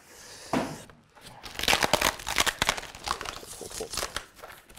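Packing tape being pulled and torn off a Hitman collector's edition box, with rapid crackling, ripping and crinkling bursts while a person talks over it.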